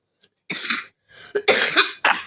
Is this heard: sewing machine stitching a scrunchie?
no